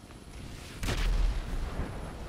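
Single explosion in the video game GTA, a sudden low boom that swells and rumbles out over about a second against background noise, with no talking.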